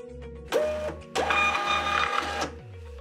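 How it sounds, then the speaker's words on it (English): A Bluetooth label printer prints a shipping label: a low motor hum pulsing in short regular bursts, then two louder whirring passes as the label feeds out, the second longer, close and clear without talk. "Tap on Print to send the label to the printer."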